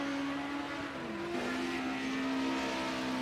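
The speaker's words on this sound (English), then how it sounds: "Hear that car spool up as it goes around." Touring car engine in a racing video game at Silverstone International, droning steadily with a rising whine as it spools up, loud and continuous with crowd or track noise behind.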